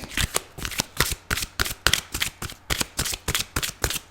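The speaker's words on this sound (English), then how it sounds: "If you don't like the shuffling, please fast forward." Tarot cards are riffled over and over in quick, even bursts, close up and crisp, with no talking.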